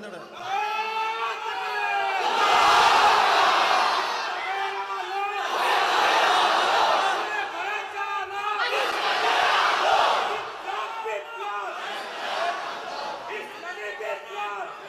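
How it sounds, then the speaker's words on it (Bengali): A large crowd at a religious gathering chants the takbir, Allahu Akbar, in loud unison, roaring three times in long swelling shouts with brief pauses between them. "জোরে বলেন আল্লাহু আকবার"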